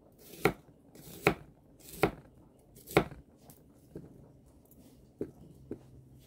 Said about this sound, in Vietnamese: Mình xắt xéo xéo hoặc là mình xắt khoanh ngang gì cũng được,